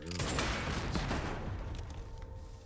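Rapid gunfire from a weapon in the survival horror game Resident Evil 9 Requiem, a dense loud volley of overlapping shots at the start that thins into scattered reports and rumble.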